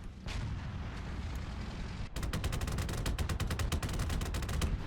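Tank cannon fire in the War Thunder video game, a dense rumbling blast with a heavy low boom, followed by a rapid string of sharp repeated gunshots, loud and close, with no talking.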